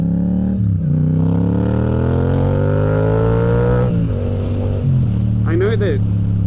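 Yamaha MT-07 motorcycle engine running steadily at idle and low revs while the bike is backed up, close and prominent, with someone talking over it throughout.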